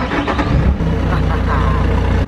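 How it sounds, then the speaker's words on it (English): A Bobcat skid steer's diesel engine cranks and catches, settling into a steady low idle rumble with a heavy throb up close, after waiting on the glow plugs. "It's a diesel engine, I'm gonna wait for the glow plugs. All right, turn it on."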